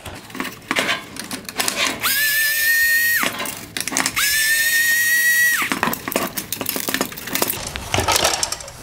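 A power driver backs T15 screws out of the bezel on a 2012-2015 Range Rover Evoque bi-xenon headlight: two close, steady whirring runs of about a second each over a busy, clattery background.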